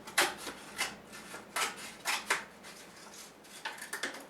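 Scissors cut through a cup to make a frame for a silicone jewelry mold. Irregular, close snips and crinkly scraping strokes recur every half second or so, with quiet gaps between them.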